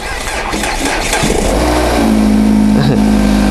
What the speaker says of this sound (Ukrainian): І машина завелась.